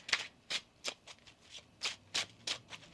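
Tarot cards being shuffled by hand, a quiet series of crisp riffling bursts at an uneven rhythm, close and alone.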